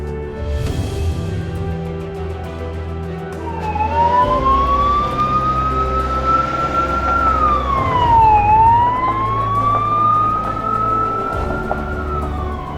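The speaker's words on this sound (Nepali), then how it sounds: "फोन गरेको करिब 5 मिनेटमै एम्बुलेन्स घर अगाडिको बाटोमा आइपुग्छ" An ambulance siren wails up and down as the vehicle arrives on the road in front of a house in rural Tarkeshwar, Nepal. The siren sweeps in a steady rising-and-falling pattern over a constant low engine and road rumble.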